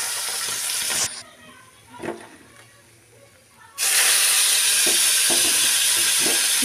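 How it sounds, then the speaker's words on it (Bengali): Fish sizzling in hot oil in a pan, a loud steady hiss that drops away briefly in the middle before surging back at full strength, with small crackles and pops throughout. "এই তেলের মধ্যে আমি বাকি যে মাছগুলো আছে সেগুলোকেও আমি ভালো করে ভেজে নিচ্ছি।"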